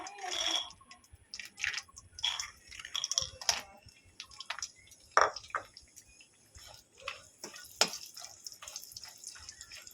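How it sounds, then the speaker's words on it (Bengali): Small lentil bori frying in hot oil after potatoes, scattered crackles and pops with sizzling bursts, close and moderately loud, no talking. "এবারে তেলের মধ্যেই অল্প করে বড়ি নিয়েছি ভেজে নেব"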